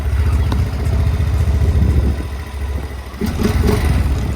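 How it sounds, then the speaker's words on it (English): A 2025 Honda Rubicon 700 4x4 ATV engine starts and idles close by, a steady low rumble with mechanical clatter and a brief dip before picking up again. "So let's go ahead and start this thing up."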